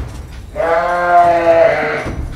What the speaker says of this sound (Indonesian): Kambing berisik banget suaranya